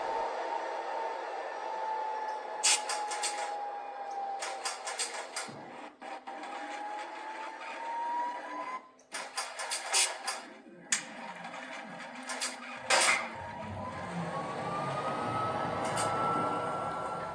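A PIKO model electric locomotive, the ÖBB 1067, runs along a model railway track with a steady motor whine that rises and falls in pitch, punctuated by several short clicks and rattles over the rails.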